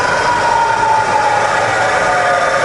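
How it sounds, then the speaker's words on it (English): A Bridgeport milling machine's variable speed head runs steadily, giving a loud, even mechanical hum with a faint tonal whine and no talking. "we're going to test the variable speed head now, and then the quill"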